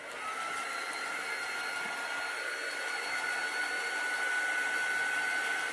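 A dryer blows steadily to speed the drying of chalk paint on a tag, a close, constant whirring hiss that holds the same pitch throughout, with no voices.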